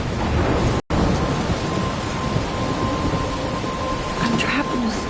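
Steady heavy rain and rumbling thunder from a storm in the video game Life is Strange, a dense continuous wash that briefly drops out once, with a soft voice murmuring faintly beneath it.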